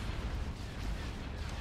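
Starship turbolaser batteries fire during a space battle in the Star Wars strategy game Thrawn's Revenge, making a dense run of muffled booming blasts under a speaking voice.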